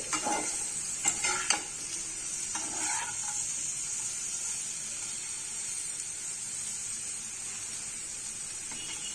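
Sweet potato with garlic and pepper sautéing in a pan, a steady soft sizzle with a few clinks of a flat ladle early on, then continuous frying hiss alone.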